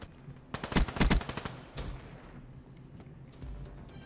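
A rapid burst of SMG fire in a Call of Duty game, a loud rattling string of shots followed by scattered fainter reports and mechanical clicks over background game ambience, with no talking.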